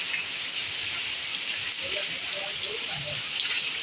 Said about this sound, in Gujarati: આવો વરસાદ આવે છે મિત્રો